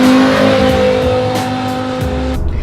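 A loud, close BMW E60 M5 V10 engine with cold air intake and tune, about 550 bhp, revs hard with a high-pitched, rising howl, then cuts sharply near the end as the throttle drops.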